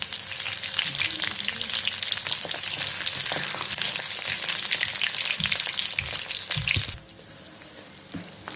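Stuffed bell peppers fry in a pan of hot oil, giving a steady, dense sizzle with crackles and pops that drops abruptly to a quieter hiss near the end.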